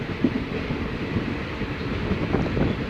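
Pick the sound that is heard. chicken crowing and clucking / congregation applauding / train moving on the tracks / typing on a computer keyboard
train moving on the tracks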